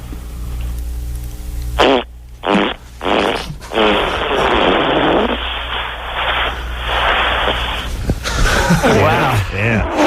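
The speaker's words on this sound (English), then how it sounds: "That sound like a bunch of farts" A loud, sputtering string of farts, close and raw, in several bursts with gaps, heard over a radio line with a person talking in between.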